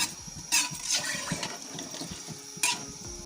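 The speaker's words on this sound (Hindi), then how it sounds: "गिलास पानी शामिल कर रही हूँ।" Water splashes and pours in uneven gushes into a pressure cooker for matar pulao, with a few louder sloshing bursts and gurgles, close up and without speech.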